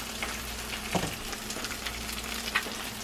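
Cheese fries and melts in a hot pan with a steady, close sizzle and a few soft pops, heard alone without talk.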